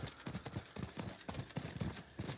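A horse ridden in the video game Diablo IV: Lord of Hatred trots with crisp, evenly spaced clip-clopping hoofbeats, moderately loud and close.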